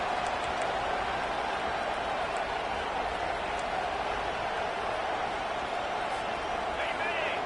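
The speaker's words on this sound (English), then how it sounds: "The roar of the crowd trying to fuel this defense to keep them pinned in their own end" A big football stadium crowd roars steadily throughout, a dense continuous wash of noise from many voices urging on the defense.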